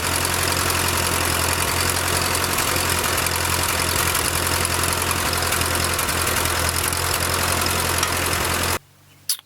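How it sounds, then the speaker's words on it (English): A Ford 8N tractor engine runs loud and steady at idle with a constant rumbling throb, then cuts off abruptly just before the end. "I'm gonna put this all back together, fire it up, and confirm that's what it was."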